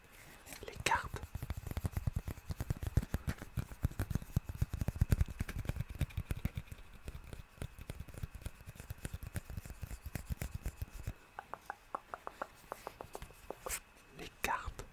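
Playing cards handled close to the mic in a French ASMR trigger session: dense runs of quick crisp flicks and taps that thin out after about eleven seconds, with soft whispering running underneath.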